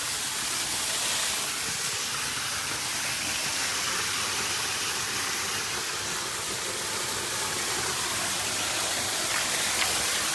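Seen from inside a cave behind the falling water, a waterfall fills the space with a steady, enveloping roar and hiss. It holds unchanged throughout, with no other sounds standing out.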